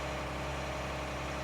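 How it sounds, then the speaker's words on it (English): Low-horsepower articulated tractor in Farming Simulator 19 idling with a steady, even engine drone and low rumble, continuous and moderately quiet, with no talk. "It's my favorite lower horsepower articulated tractor."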